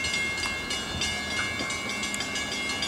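Level crossing bells ring beside a railway station platform near an underpass, repeating in the background under the rumble of an arriving train.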